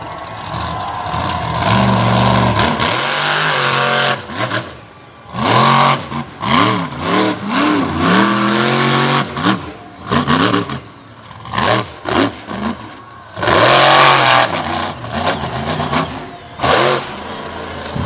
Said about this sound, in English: Gotta love the sound of that Richard Midget horsepower coming through those open pipes